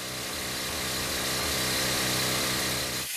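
A pneumatic rock drill bores blast holes into hard rock at the face of a jade mine, a loud, steady broadband roar with a continuous hammering hiss that runs unbroken for the whole span, close and without talk.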